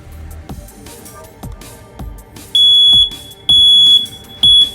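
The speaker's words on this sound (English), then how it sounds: "we're going to have to check the alarm and make sure that the battery is new or replaced" A smoke detector in a two-bedroom apartment is tested and lets out three loud, piercing electronic beeps in a row, after a run of soft tapping and handling clicks.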